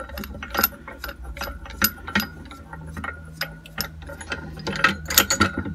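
A ratchet working a nut loose on a Lambretta scooter engine mount, irregular bursts of quick metallic clicks up close, with short pauses between strokes.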